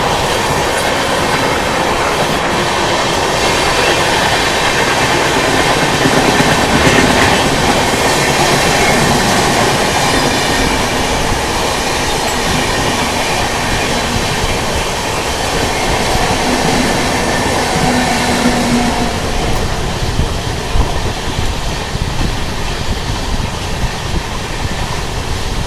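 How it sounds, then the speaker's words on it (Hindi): An express train roars past at speed on a parallel run between Mumbai and Haridwar, with loud rumbling, rhythmic rail clatter and wind noise throughout, heard from close by. "गजब का पैरेलल रन।"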